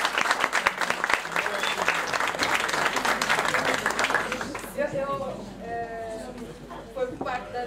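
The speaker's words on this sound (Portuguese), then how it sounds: "Eu acho que isto merece uma sala de palmas" Applause from the audience at a school gathering, fairly loud and dense for several seconds before thinning out, with voices and some tonal sounds surfacing as the clapping fades.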